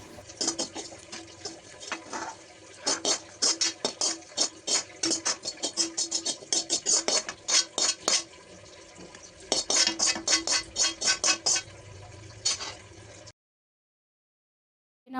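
Mint leaves fry in oil in a pan for a pudina pickle. A spoon scrapes and clatters against the pan in a quick rhythm over a soft background sizzle, then the sound cuts off near the end.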